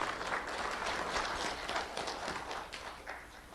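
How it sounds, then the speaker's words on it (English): An audience applauds at a ceremony held in a school board chamber, a steady, fairly soft run of clapping that tapers slightly near the end, with no voices over it. "let's have a round of applause for everyone helping us today behind the scenes"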